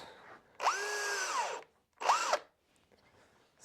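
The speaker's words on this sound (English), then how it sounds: "drill my holes" A power drill bores holes into a traditional wooden doorframe for a bread oven, with two whirring bursts, the first longer and the second shorter, each spinning up and then winding down, heard close with no talk.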